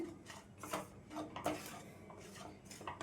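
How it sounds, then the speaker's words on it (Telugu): A spoon scrapes and knocks against a pan while a mixture of milk powder, dry coconut and semolina is stirred, giving soft, rhythmic scraping strokes with occasional metallic clinks, close and quiet. "ఇది కూడా మొత్తం కలిసేటట్టు కలిపేసుకుందాం"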